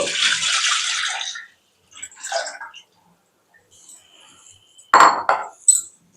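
Half a litre of milk streams into a pot on a lit stove for about a second and a half, followed by brief softer splashes and a few sharp clinks of metal vessels near the end.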